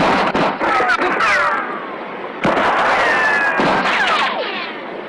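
Bursts of gunfire from men shooting down at someone below, in a 1984 French-dubbed vigilante action film, crack loudly in rapid volleys, split by a short pause, with ricochet-like whines over dense near-field noise.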